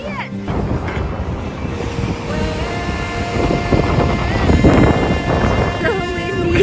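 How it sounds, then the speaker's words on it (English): Strong coastal wind buffets the microphone beside a stormy ocean in British Columbia, rumbling and gusting loudly while people talk and exclaim over it. "So windy."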